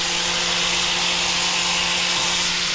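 A power sander working down a wooden bureau, giving a steady, continuous broadband whir with a constant low hum, close and loud with no pauses and no voices.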